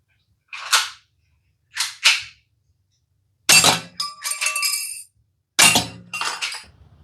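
A KWC M92 spring-cocking BB pistol fired at a small 3 by 4 cm target: sharp close snaps, some in quick pairs, with bright metallic clinks and ringing after the later shots, separated by silence.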